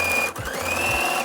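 Sewing machine top stitching a trouser seam for bisque trouser shorts, a steady close whir running almost continuously with a brief dip partway through, no voices.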